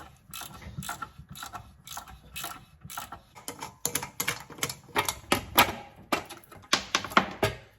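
A ratchet wrench loosens the cylinder head bolts on a Massey Ferguson 35 tractor engine with a Continental motor. The pawl clicks in quick, close bursts, pausing briefly between strokes, with no talking.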